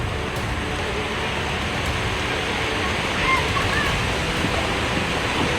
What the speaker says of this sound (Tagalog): Talaga namang walang tigil ang ulan.